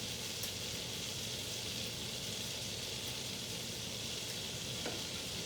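Garlic butter sizzles steadily in a pan while salmon and zoodles are cooked keto style, a dense, even hiss that holds at a constant level throughout with a few faint clicks and no voices.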